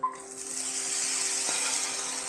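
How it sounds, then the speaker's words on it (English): A quesadilla sizzles in a hot pan, giving a steady, bright hiss that holds throughout at close range, with a faint low hum beneath and a small knock partway through, without any speech. "It's even sizzling."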